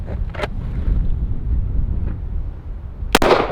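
Pistol shots during outdoor firearms training crack sharply, one early and one near the end, over steady wind rumble against the microphone, with no speech between them.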